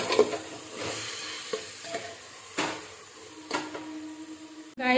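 Chicken gravy masala with Kashmiri red chilli is mixed in a pan: a soft steady sizzle with several separate scraping and tapping stir strokes, close and moderately quiet, no talking.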